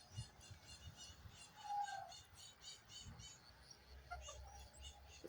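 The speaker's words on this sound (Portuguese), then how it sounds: "Passarinho inquietaram ali na árvore." Small birds chirp in a tree outdoors, with faint, scattered tweets at a distance over quiet ambient background and a little low rumble.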